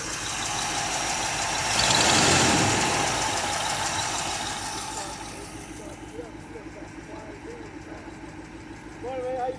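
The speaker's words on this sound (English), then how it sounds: "motor sounds real good, man" A 1964 Chevrolet Impala engine idles steadily in a backyard, swelling briefly louder early on, then settling into a low, even rumble as voices talk over it near the end.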